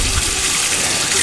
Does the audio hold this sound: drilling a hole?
no